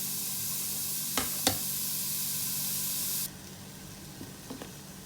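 Chopped onion hits a hot, dry pan with no oil yet, giving a loud, steady sizzling hiss with a couple of sharp crackles, then dropping abruptly to a quieter sizzle with faint pops.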